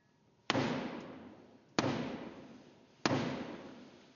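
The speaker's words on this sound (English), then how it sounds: "Black rod banging on the door of the Commons, reminding us of Parliament's independence from the new king." Black Rod strikes the door of the House of Commons three times in a stone hall at the State Opening of Parliament, each heavy knock sharp and evenly spaced, followed by a long echoing decay.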